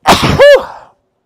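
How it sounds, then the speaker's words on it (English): A single sharp sneeze, close and loud, with a quick breathy onset and a short voiced burst. "Uh-oh, I might have to sneeze."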